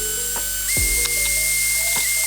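An electric drill whines through a plastic bottle while boring a hole in its center for a homemade juggling club head, a steady high-pitched motor tone that steps up in pitch partway through, with brief clicks and catches.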